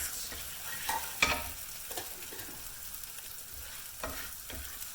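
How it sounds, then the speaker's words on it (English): Small pieces of broken-up red chili frying in a hot pan while being stirred, giving a soft, steady sizzle with light scraping clicks throughout. "fry it off quite nicely"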